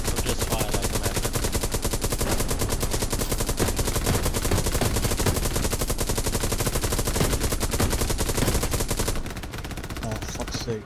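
Continuous machine gun fire in the World War II shooter Hell Let Loose, a loud, dense rattle of rapid shots that runs almost unbroken for about nine seconds before easing off.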